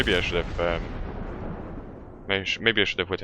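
Naval guns of the Blyskawica destroyer firing at the cruiser York in World of Warships: a loud opening burst fades into a rumbling tail, then a rapid string of sharp blasts follows.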